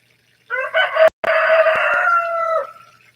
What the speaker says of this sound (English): Yeah, I'm used to those roosters.